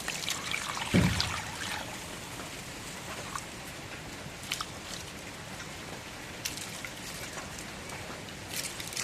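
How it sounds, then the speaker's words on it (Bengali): Mixed lentils and rice being rinsed in water, a soft continuous trickle and slosh with a brief louder splash near the start, faint and close, no talking. "সবগুলো মিশন করলাম এক জায়গায় করে দিলাম এখন ধুয়ে নেই"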